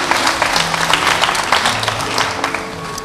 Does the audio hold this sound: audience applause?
yes